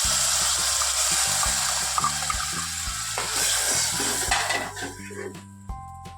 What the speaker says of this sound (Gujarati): હવે આપણે આ મોરૈયો છે એ પાણીમાં રાખ્યો છે અને નાખી દઈશું।